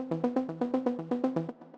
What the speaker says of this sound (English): The sound is a super simple saw plug with an MG Low 18 filter